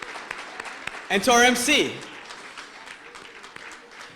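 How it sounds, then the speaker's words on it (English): Guests at the American Arab Chamber of Commerce annual economic gala clap in a moderate patter that continues under someone speaking over a microphone, then carries on after his words. "Let's give a round of applause to the chamber."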